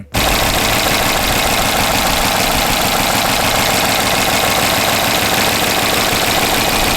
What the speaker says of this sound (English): Even though the engine does sound a little weird to me